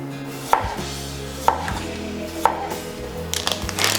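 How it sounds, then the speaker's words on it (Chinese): A knife slices cucumber into thin pieces, making three crisp, evenly spaced cuts about a second apart, then a quicker burst of cuts, over a faint tonal background. "我们的小黄瓜头去掉，然后切薄片"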